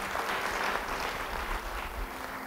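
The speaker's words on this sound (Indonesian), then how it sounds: "Yang setuju beri tepuk tangan bagi dia." A church congregation claps during a sermon, a moderate wash of applause heard from a distance, fairly even throughout the short stretch.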